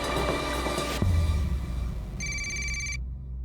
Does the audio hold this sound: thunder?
no